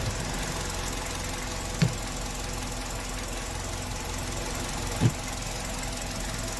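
A car engine idles steadily while its wiring connector is wiggled during a stalling-fault repair check, a constant mid-level hum with two brief soft knocks, no talking.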